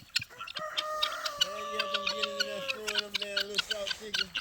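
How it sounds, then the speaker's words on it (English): A rooster and guinea fowl on a farm make loud, repeated clucking and squawking calls in quick succession, close by, with someone talking over them. "I was wondering why that rooster's out here by himself."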